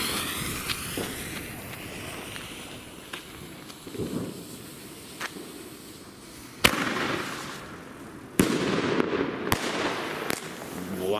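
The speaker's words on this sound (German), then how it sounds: "Vor allem der Salut war echt laut" Several sharp, loud bangs from a Pyroland Pech & Schwefel single-shot salute go off, the biggest near the end, with crackling and a rumbling background between the blasts.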